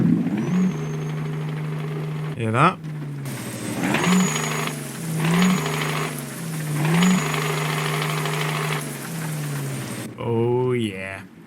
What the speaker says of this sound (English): just listen to how this sounds like when I put my foot on the gas